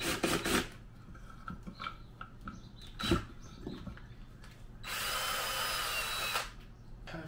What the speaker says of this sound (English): we need to first drill a hole in this plate